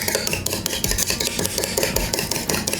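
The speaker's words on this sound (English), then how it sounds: "Then I'm gonna whisk it. I'm using a spoon end just because it makes less noise." A spoon end rasps quickly and continuously against a bowl as it whisks a buttermilk mixture for bread, a busy scraping rhythm close to the microphone.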